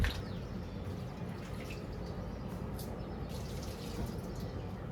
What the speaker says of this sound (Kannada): ಈಗ ಬಂದು ಇಲ್ಲ ಗಿಡಗಳಿಗೆ ಸ್ವಲ್ಪ ನೀರು ಹಾಕ್ತೀನಿ ನಾನು.